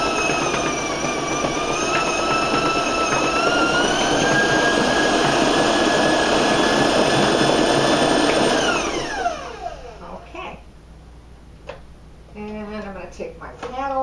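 A stand mixer with its paddle attachment whirs loudly at raised speed for chocolate sheet cake batter, a steady high motor whine that winds down after about nine seconds, followed by someone talking.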